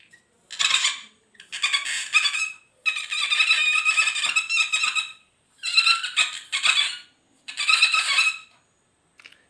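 A child imitates a dolphin with a run of shrill, squealing squeaks, about six bursts of uneven length separated by short pauses, loud and close with no other voice.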